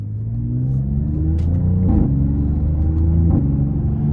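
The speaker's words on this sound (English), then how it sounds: "let's go ahead and take this 2023 Audi S7 out on the road for a test drive" A 2023 Audi S7 Prestige quattro with the 2.9 twin-turbo V6 drones steadily on the road from inside the cabin, its engine note dropping at two gear changes beneath a constant low rumble.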